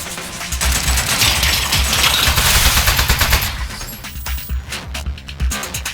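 Rapid bursts of turret gunfire in the video game Aperture Desk Job, loud and dense for several seconds, then breaking into sparser shots with clinking impacts.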